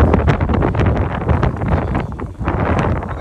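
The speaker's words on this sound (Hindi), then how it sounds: "हवा आप देख रहे हैं बहुत तेज चल रही है" Strong wind blowing across an open-air campsite, a loud, continuous gusty roar buffeting the microphone, with rustling in the gusts and no talk.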